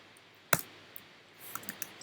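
A few sparse, crisp clicks from a computer keyboard, one sharp keystroke followed by lighter scattered taps, close and quiet with no talk.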